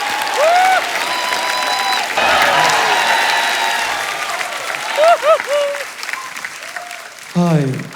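Loud audience applause on a comedy show stage welcomes the qawwali singers, steady clapping with voices and musical tones rising over it, a brief break midway and a swell near the end.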